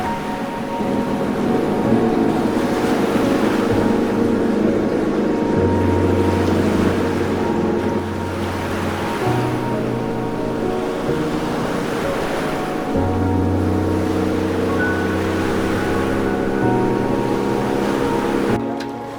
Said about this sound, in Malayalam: രാത്രിയിലെ യാത്ര കഴിഞ്ഞ് തിരിച്ചെത്തുന്ന മത്സ്യബന്ധന ബോട്ടുകളുടെ താളത്താൽ തുറമുഖം സജീവമാണ്